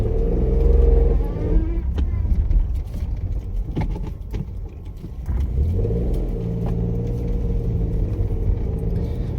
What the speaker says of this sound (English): Bit of traffic in the close.